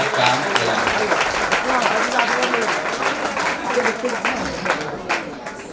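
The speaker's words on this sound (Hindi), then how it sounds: "जोर से ताली बजाओ भैया" Dense, steady applause from an audience at a cow shelter gathering, sustained crowd clapping throughout with no pauses, close and loud, with a few voices mixed in.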